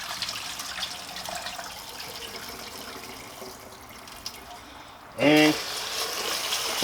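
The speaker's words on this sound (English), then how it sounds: "I just let the water run, let it fill up to the top, dump it out." Tap water runs steadily into a pot while rice is rinsed, a continuous close splashing rush, and a voice briefly cuts in near the end.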